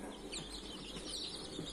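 Young chicks at home cluck and peep softly, a faint, busy flutter of small calls close by with no talk over them.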